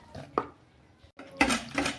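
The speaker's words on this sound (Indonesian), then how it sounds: "Aduk terus sampai gulanya betul-betul larut" A utensil stirs chocolate layer cake batter with coconut milk and sugar in a bowl, close clinks and scrapes in two short bursts, with no talking.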